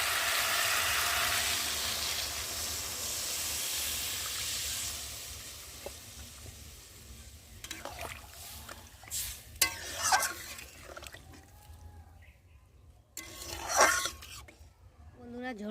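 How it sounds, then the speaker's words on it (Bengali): Fish curry broth with potatoes and beans bubbles in a pan, a steady hissing simmer for the first half that eases off, followed by scattered clinks and stirring knocks from a spatula. "বন্ধুরা, ঝোলটা ফুটে গেছে"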